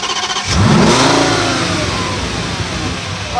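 V10 car engine on a race circuit, revving up sharply after a brief idle and holding a loud, sustained rising roar, close to the listener with no talk.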